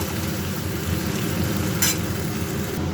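Okra curry is sautéed in a pan with a soft, continuous sizzle and a few scraping stirs nearby, steady throughout with no speech.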